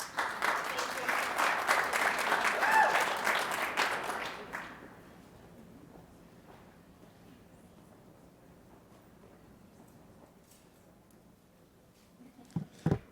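Audience applause at a chamber of commerce board officers installation in West Bloomfield, loud and dense for about four seconds, then fading to a quiet room with faint murmurs and a couple of late claps near the end.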